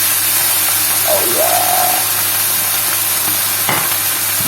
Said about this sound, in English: Now this should sizzle.